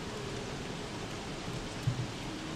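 Steady rain in the video game Don't Starve, a continuous soft hiss of falling drops with a couple of faint soft thumps near the end.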